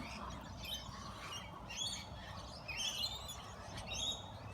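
Parrots and big white galahs chirp and squawk at an afternoon bird-feeding spot among ducks and a turkey, a scattered, fairly distant chorus of short calls over a soft outdoor background.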